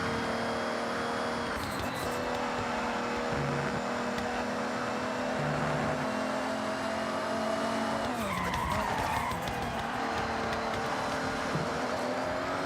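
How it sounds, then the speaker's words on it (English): A car drifting in the Forza Horizon racing game, a steady engine drone with long stretches of tire squeal, the tone bending and rising around mid-passage as the car slides, loud and continuous without speech. "That's a little bit of drift"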